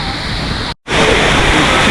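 Na Mueang Waterfall on Koh Samui roars as a loud, steady broadband rush of falling water heard up close, broken by one brief cut to silence before resuming.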